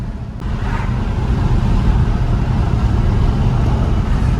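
A 1955 shop truck with rack-and-pinion steering on a Colorado frame pulls over on a test drive, its engine rumbling low and steady throughout with road noise and no talk.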